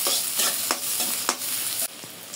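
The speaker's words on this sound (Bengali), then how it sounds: "পেঁয়াজগুলো আমি একটু লাল লাল করে ভেজে নেব।" Half a cup of onions frying in hot oil in a wok, browning while being stirred; steady close sizzle broken by rhythmic scraping strokes about every half second, with no talk.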